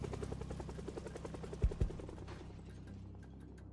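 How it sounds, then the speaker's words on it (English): Helicopter rotor drone in Project Zomboid, a steady thumping chop that roams overhead and fades somewhat, with a couple of sharp thuds partway through and no speech. "you can hear the chopper going all over the place"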